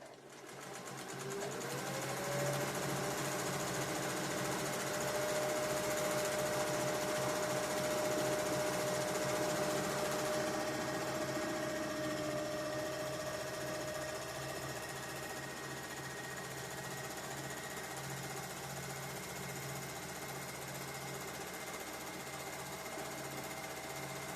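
A sewing machine does free-motion quilting on a mini frame, a steady close mechanical whirring with rapid needle chatter that runs without pause for the whole stretch, speeding up briefly at the start, with no speech.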